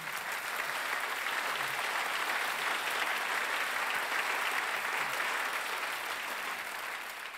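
Sustained, dense applause from a theatre audience at a British comedy cabaret show, steady and loud throughout without pause.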